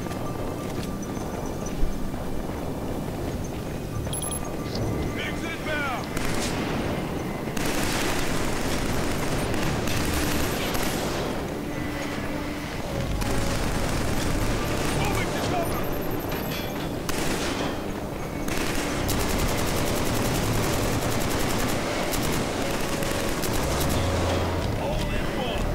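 Heavy, sustained gunfire aimed at the player in Killzone 3, a dense rattling fusillade with explosive thumps throughout, and a voice talking over the din.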